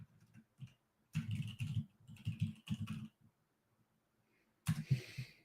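Fingers type on a computer keyboard in several quick bursts of close keystrokes, separated by short silent pauses.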